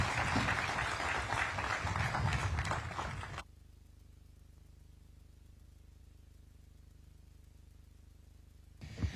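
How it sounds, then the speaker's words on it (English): An audience applauds the President of Kenya, William Ruto, with loud, dense clapping that cuts off abruptly, leaving a low hum of near silence before a brief burst of sound returns at the end. "Another round of applause for His Excellency, the President of this great nation, Dr. William Samoei Ruto."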